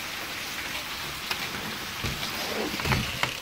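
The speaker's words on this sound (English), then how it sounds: "It is piss poor raining." Steady rain pours down outdoors as a dense, even hiss, with occasional louder drops spattering on nearby surfaces, close and continuous with no voices.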